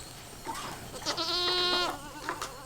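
A goat bleats once in a long, wavering cry over a background of faint rustling and outdoor noise, with a shorter call at the start.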